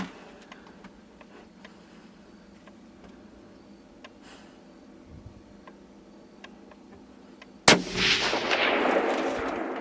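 A single loud rifle shot fired at a deer during a hunt cracks sharply after a long stretch of quiet outdoor ambience with faint ticking sounds, followed by a ringing, echoing tail.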